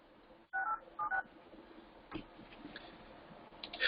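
A phone number being dialed: a short run of telephone keypad tones, several quick beeps in two clusters, followed by faint ticking and room noise.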